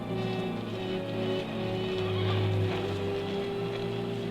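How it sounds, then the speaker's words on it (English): A horse approaching on a ranch range at night, heard as a continuous nearby presence with a low sustained rumble and possible neighing, holding steady and swelling slightly in the middle, with no talk. "There's a horse coming up."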